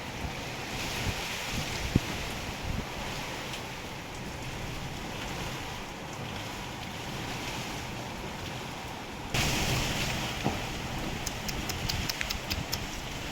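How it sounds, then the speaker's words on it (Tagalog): Strong typhoon wind roars steadily for the whole stretch, with gusty buffeting and a sudden louder surge near the end, no voices. "Pakalakas ng hangin."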